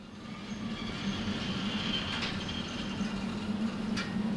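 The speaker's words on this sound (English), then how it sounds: "It's wheel slipping" A train locomotive's wheels slip and grind on the rails in the Derail Valley video game, a steady rumbling drone with a low hum and occasional sharp metallic squeals, heard alone.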